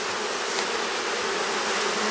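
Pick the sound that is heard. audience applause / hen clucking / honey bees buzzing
honey bees buzzing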